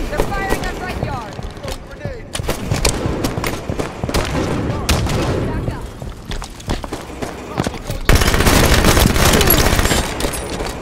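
Gunfire from a Team Arena video game match, with repeated shot bursts and booms running throughout, growing dense and loud near the end, under and between talking voices.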